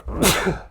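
A single loud, close sneeze bursts out abruptly and fades within a second during a casual podcast conversation.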